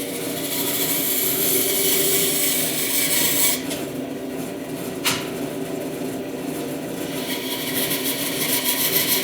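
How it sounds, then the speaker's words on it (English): Bandsaw cutting through a wood turning blank to free it from a lathe faceplate, a steady loud rasping whine that drops briefly midway with a sharp click, then resumes for the rest of the cut. "So I'll go unscrew this and cut it off on the bandsaw."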